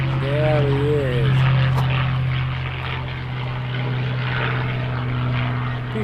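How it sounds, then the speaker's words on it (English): A P-51 Mustang propeller plane passes overhead with a steady, droning engine roar heard from outdoors, continuous and fairly loud, with a voice speaking briefly over it. "There is a P-51 Mustang flying above my house."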